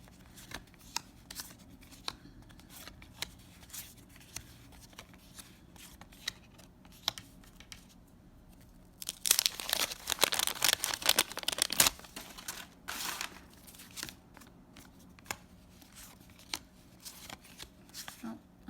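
Vintage 1989 New Kids On The Block trading card wax packs being opened by hand: soft, sparse card shuffling and ticking close by, then a louder burst of wrapper crinkling and tearing midway before quieter handling resumes.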